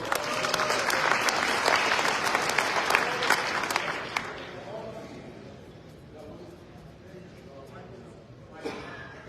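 Audience applause at a business association event in Atlantic City, loud dense clapping for about four seconds that then fades to scattered claps and murmuring.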